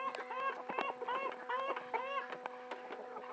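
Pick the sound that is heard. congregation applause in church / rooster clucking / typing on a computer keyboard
rooster clucking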